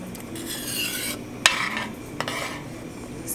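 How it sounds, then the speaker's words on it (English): Chicken creole sauce coming to a low boil in a pot while being stirred, with steady soft bubbling and sizzle, scraping stir strokes and a couple of sharp utensil clinks against the pot, close up. "And now that it's starting to boil a little bit"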